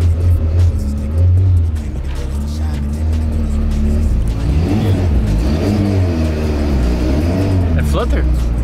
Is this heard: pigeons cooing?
no